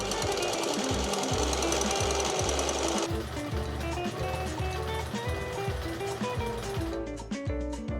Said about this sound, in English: I'm going to now sew up my back pieces and assemble my side seams